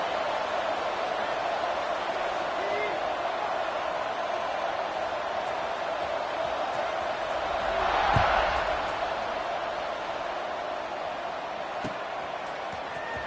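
Steady football stadium crowd noise, a broad continuous roar of many voices that swells briefly about two-thirds of the way through before settling back to a constant, distant-sounding din.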